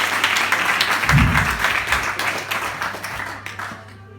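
Audience applause at a live hypnosis show, a dense steady patter of many hands that holds for a few seconds and then fades out.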